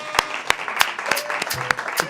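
Audience clapping in a steady unison rhythm, about seven sharp claps roughly a third of a second apart, close and clear over a faint background hum at a lively French show.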